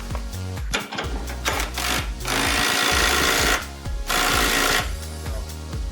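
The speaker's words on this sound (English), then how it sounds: "let's put it on high and tighten it down with the Dewalt as hard as I can" DeWalt impact wrench set on high, hammering hard as it tightens a bolt down: loud, close, rapid rattling bursts that stop and restart several times, no talk.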